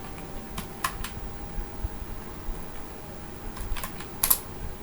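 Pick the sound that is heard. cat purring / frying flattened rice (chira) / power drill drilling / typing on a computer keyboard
typing on a computer keyboard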